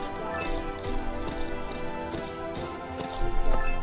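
Horse hooves clip-clop in the Horse Riding Tales video game, a steady trotting patter over a busy bed of game music, moderately loud and continuous throughout.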